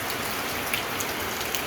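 Heavy rain from a Philippine rainy-season shower hisses down steadily, a dense even wash of patter with a few faint droplet ticks on top, no voices.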